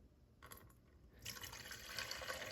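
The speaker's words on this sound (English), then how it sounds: "now with the pitcher of water, you just add it carefully" Water poured carefully from a pitcher into an Evapolar evaLight Plus portable evaporative air cooler: near-silence, then a faint close trickle that grows into a steady splashing pour.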